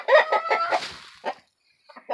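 Several close chickens and roosters cluck in quick bursts, a loud run of squawking notes followed by scattered shorter clucks after a brief pause.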